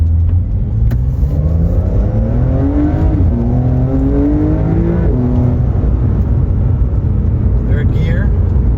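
A Porsche with an upgraded exhaust accelerates in third gear in normal mode. The engine note rises steadily and loudly from inside the car, and someone talks over it.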